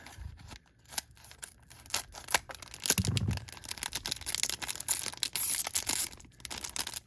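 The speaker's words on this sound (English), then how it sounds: "I know it's kind of taboo for me to open up card packs with scissors" Scissors snip repeatedly at close range, cutting open Ride Chemy trading card packs, mixed with crinkling and tearing of plastic wrappers. The cutting sounds come in quick, irregular bursts.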